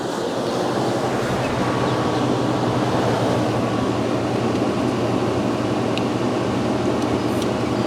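A BMW E60 550i with its V8 cranking but failing to start, heard as a steady, loud mechanical drone with a continuous low hum that runs unbroken from start to finish, with no voices.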